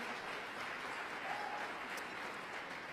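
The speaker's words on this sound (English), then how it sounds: "Let's give him a round of applause" Steady, dense clapping from a conference audience, sustained and even for a few seconds with no voices standing out.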